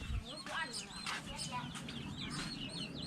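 Chickens on a Thai mixed livestock farm chirp and cluck in a busy overlapping chorus, with bird calls close and steady throughout over low background rumble.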